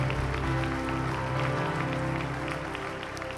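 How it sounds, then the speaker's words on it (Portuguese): Church congregation offers a round of applause during a worship service, clapping faint and fairly distant beneath sustained organ or keyboard chords and a low musical hum. "ofereça a Deus a sua melhor salva de palmas"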